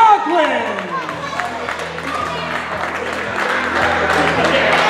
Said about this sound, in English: another round of applause for our fifth grade All-Star boys from Indian Mills and Medford Lakes